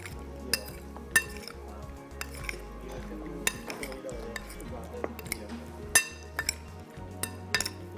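Metal utensils clink and scrape against a bowl while tossing a salad, with irregular sharp taps and stirring rustles over several seconds and a steady low hum underneath.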